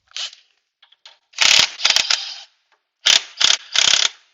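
Socket wrench ratcheting on a strut of a 2005 Toyota Camry during a strut replacement: loud, close bursts of rapid clicking in several separate runs with short pauses between, no talking.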